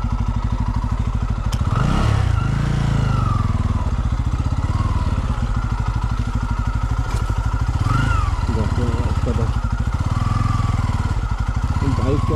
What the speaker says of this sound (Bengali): বাইকটা টেস্ট হচ্ছে কেমন